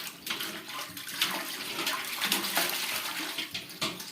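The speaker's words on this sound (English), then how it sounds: "Cleaning the pots." Running water splashing while brewing pots are scrubbed clean in the early morning, a steady rushing stream with irregular splashes and clunks, close and fairly loud with no voices.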